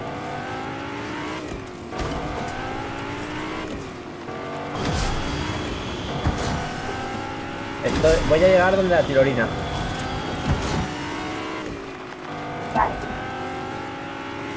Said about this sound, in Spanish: Voy con un coche azul para que se oiga más.